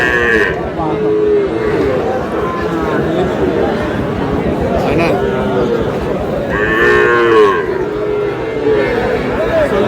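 Cattle at a busy market, including Sahiwal bulls and calves, moo repeatedly, several calls rising over the crowd's steady chatter and voices, some close and some farther off.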